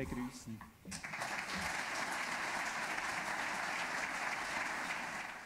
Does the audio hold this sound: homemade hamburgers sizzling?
no